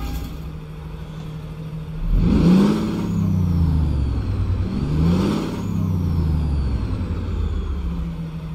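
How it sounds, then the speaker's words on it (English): A truck engine in American Truck Simulator, heard with the windows down, idles steadily, then revs twice in rising and falling swells before settling back to a low idle. "go ahead and start up the engine here"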